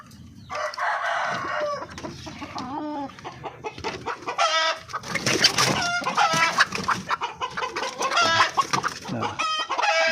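Native Darag chickens cluck and crow loudly while being fed fruit and vegetables, with a rooster crowing and many hens calling continuously and close by.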